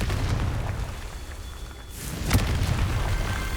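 Confringo fire spell in Hogwarts Legacy: a deep booming explosion bursts out, then crackles over a continuous low game background, with no voices.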